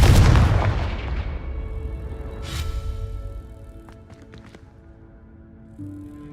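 A Confringo explosion spell in a Harry Potter video game bursts with a loud boom that decays over a couple of seconds, followed by a smaller blast and some faint clinks as it fades, with no talking.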